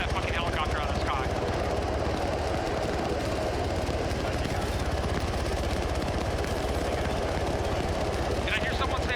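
Helicopter in the video game Arma 3, a loud steady rotor and engine drone filling the whole stretch without a break, with no speech over it.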